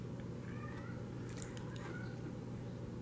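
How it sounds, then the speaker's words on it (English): A house cat meows a few times in the background, faint and distant under a steady low hum, with no talking over it. "And I apologize if you can hear my cat in the background."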